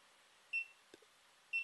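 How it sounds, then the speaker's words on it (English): Locate beep from a GoPro HD Hero 3 Black Edition camera, two short high electronic beeps about a second apart, fairly quiet, with a faint click between them and no talk. "that beep will lead you to GoPro"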